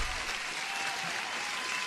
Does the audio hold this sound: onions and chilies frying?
no